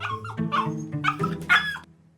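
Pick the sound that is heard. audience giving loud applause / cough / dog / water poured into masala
dog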